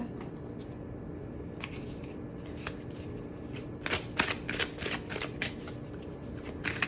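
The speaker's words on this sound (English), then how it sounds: "Let's pull an oracle card" Oracle cards shuffled by hand in a quiet room, a soft steady riffle that grows into quicker, crisper bursts of card slaps toward the end, close and clear with no talking.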